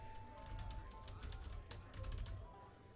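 Rapid, fairly quiet clicking of computer keys in irregular bursts, close by, with a faint steady hum underneath and no voices.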